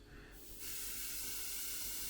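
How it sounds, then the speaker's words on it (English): An airbrush sprays very thin paint at low air pressure onto a HobbyBoss Nagmachon scale model, starting with a soft hiss that swells into a steady, close, continuous spray. "we're just spraying down this very, very thin paint at low air pressure"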